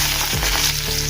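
Curry leaves hit hot oil and sizzle, a loud close burst of spitting hiss that runs for about a second with a low stirring scrape.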